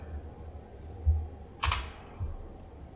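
A few sparse clicks of computer keyboard keys while a web address is entered, with three or four distinct keystrokes close by and quiet, separated by pauses, with no talking.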